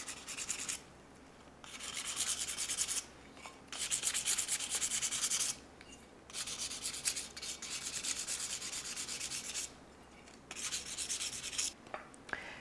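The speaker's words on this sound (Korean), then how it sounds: "꼭 균일한 힘으로 사포를 해주시는 게 중요합니다" Sandpaper rubs paint off a wooden surface in steady back-and-forth strokes, a bright, raspy scratching that comes in long bursts separated by short pauses, close and fairly quiet with no talking.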